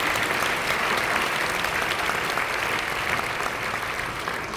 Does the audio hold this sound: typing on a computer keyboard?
no